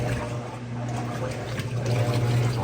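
Water filling the drum of a Maytag washing machine, heard as a steady rushing flow with a low hum underneath that grows slightly louder toward the end.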